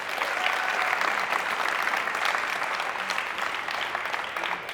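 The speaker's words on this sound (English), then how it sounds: "let's give them a big round of applause." An audience at an endurance charity event breaks into sustained applause, a dense, even wash of clapping that holds steady for several seconds with no talk over it.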